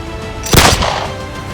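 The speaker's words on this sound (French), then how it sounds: "j'ai entendu un coup de feu" A single sharp gunshot cracks out, loud and close, then fades into a short rumbling echo.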